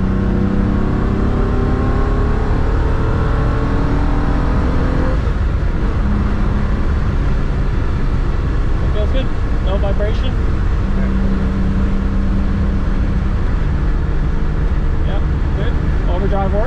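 A Ferrari GTE accelerates on a highway, its engine note rising in smooth climbing sweeps over heavy road and wind roar from inside the car, with people talking over it.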